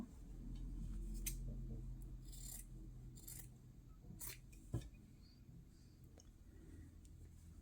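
Scissors trimming fabric edges straight for a slow-stitched fabric book page, heard as a few faint, crisp snips spread over a low steady background hum.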